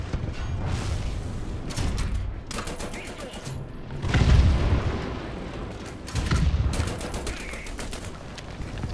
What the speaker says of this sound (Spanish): una bomba, me están tirando bombas